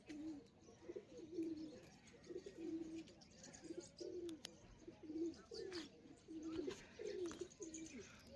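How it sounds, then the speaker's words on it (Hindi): Pigeons coo softly again and again in a steady, rhythmic pattern, faint and a little distant, with light outdoor noise around them. "देख सकते हो ब्रो सारे कबूतर उठ चुके हैं"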